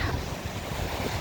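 Wind-driven waves roll onto an eroded Lake Michigan beach, a continuous rushing surf wash mixed with strong wind buffeting the microphone.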